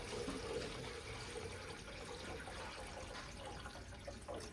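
Coolant pours and trickles into the cooling system of a 1962 Dodge D200 pickup, a steady close liquid gurgle and splash that runs unbroken for several seconds.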